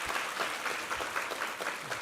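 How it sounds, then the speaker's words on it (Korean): A church congregation at a Sunday worship service marking its thirteenth anniversary claps together in dense, steady applause that fills the room throughout. "우리 하나님께 감사와 영광의 박수 올려드리겠습니다."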